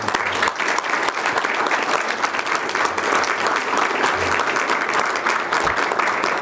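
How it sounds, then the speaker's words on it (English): Audience at Suffolk Community College, at the event for the 2014 Yonex US Open Badminton Championships, gives the students a round of applause: steady, dense clapping from a crowd, held at an even level throughout. "let's give our students who are here this morning a round of applause"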